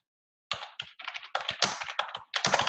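A computer keyboard rattles with fast bursts of typing after a brief silence, clustered keystrokes coming close and clear, broken by short pauses, with no one speaking.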